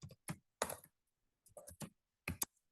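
Code typed into Visual Studio on a computer keyboard, heard as short bursts of close, crisp key clicks broken by brief pauses.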